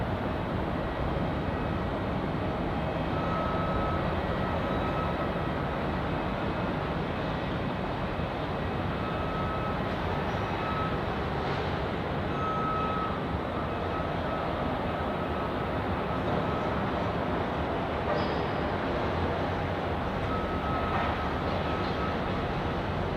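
A Jetstar airliner arriving from Cairns on runway 34 at Melbourne Airport produces a steady, broad jet engine roar. The sound holds at the same level for the whole stretch, with no voices.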